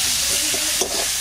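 Onions hit hot oil spiced with bay leaf, cumin and dried chilli, giving a loud, steady broadband sizzle with a brief surge of crackling, close and with no talk.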